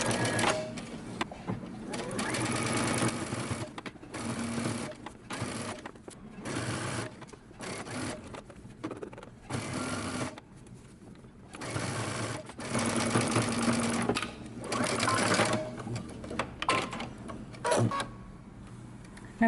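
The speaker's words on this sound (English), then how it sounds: "Now you're going to take it to your machine and you're going to stitch using 5/8 of an inch seam allowance" A sewing machine stitches a 5/8-inch seam on a dress or romper, running in repeated close bursts of rapid whirring and clatter separated by short pauses.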